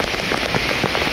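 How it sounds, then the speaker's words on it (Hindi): Heavy rain pours down steadily at night in Phuket, Thailand, a dense close hiss of drops striking hard surfaces and a flooding road, with no voices. "बहुत तेज की बारिश हो रही है 2 घंटे से लगातार"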